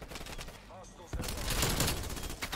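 Rapid bursts of PPSh submachine gun fire in a Call of Duty Hardpoint match on the Yamato map, loud and dense, with a quieter lull before a sustained volley of close shots.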